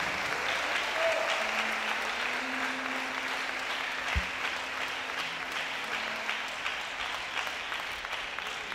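Church congregation applauding at an anniversary service, a steady wash of clapping that holds evenly for the whole stretch with no talk over it.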